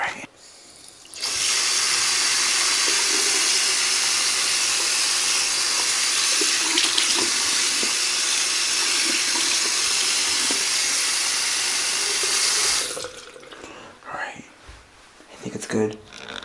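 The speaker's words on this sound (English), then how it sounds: "you need to drown it in water, which I'm gonna do right now" Tap water runs steadily into a container holding a rice-filled doll, a loud continuous gush that starts abruptly and stops, followed by a few small handling noises.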